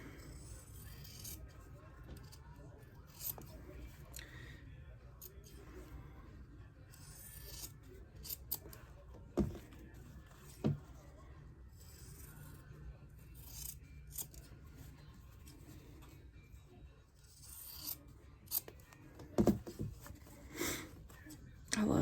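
Scissors snip away fabric for a quilt block, with soft, close crisp cuts scattered through a quiet room and a few sharper snips standing out.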